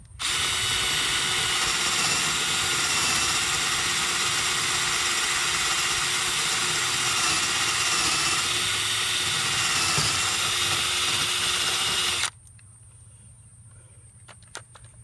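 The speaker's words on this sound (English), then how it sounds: "now I'm going to drill the second hole." A power drill bores a hole into a floating dock, running loud and steady with a continuous whine for about twelve seconds before stopping abruptly, leaving quiet background.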